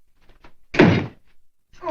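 An interior door swings shut with a single solid thunk, close and fairly loud, with faint voices just before and after it.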